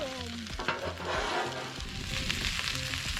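Chorizo, potatoes and eggs sizzle loudly on a Blackstone griddle while being stirred and mixed for breakfast burritos, with steady frying hiss and intermittent scraping clatter of a spatula.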